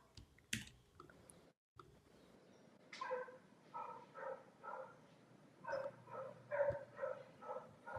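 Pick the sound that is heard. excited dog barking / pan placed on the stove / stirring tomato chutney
excited dog barking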